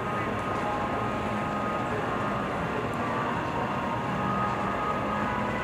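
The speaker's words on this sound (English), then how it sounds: "now they're manually pushing the train back onto the transfer table" A roller coaster train being pushed by hand onto a transfer table during construction of SeaWorld Orlando's Ice Breaker coaster gives a steady, continuous rolling rumble with broad noise that holds evenly throughout, no voices.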